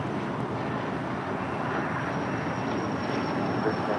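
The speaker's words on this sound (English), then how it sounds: "That Learjet is departing to Mountain View." A Learjet departs from LAX, its jet roar a steady broadband wash that sits at a moderate distance, constant from start to finish with no voices.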